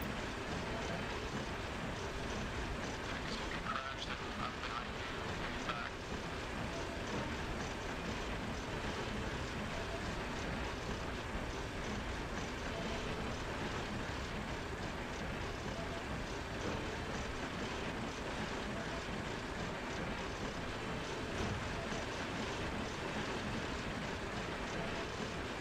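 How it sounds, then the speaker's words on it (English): An aircraft engine in Arma Reforger drones with a rough, crunchy tone, a steady and fairly faint roar that runs unbroken throughout. "My engine's all crunchy sounding."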